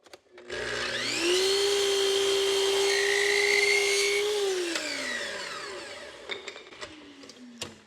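A power miter saw swung to a 45-degree angle spins up with a rising whine, cuts through crown molding for several seconds at a steady pitch, then winds down, followed by a few light knocks as the cut piece is handled.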